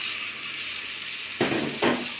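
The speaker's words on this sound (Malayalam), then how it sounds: "നന്നായിട്ട് ഇളക്കി കൊടുക്കാം." A jackfruit, grated coconut and jaggery mixture cooks in a pan with a low steady sizzle, then two quick scraping stirs sound close by near the end.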